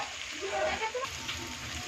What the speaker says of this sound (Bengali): রসুনটা দিয়ে ভেজে নিয়েছি।